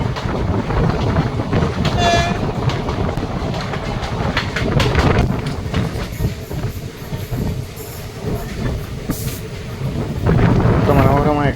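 The Madurai-Guruvayoor Express runs on the Tenkasi-Kottarakkara line with a loud, constant rumble and rattle of carriages, plus scattered metallic squeals and clatter throughout.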